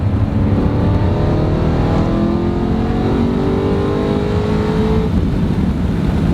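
A BMW E92 M3 with test pipes and the OEM muffler mod downshifting into third, a loud close exhaust roar with rising rev sweeps that build and then ease off.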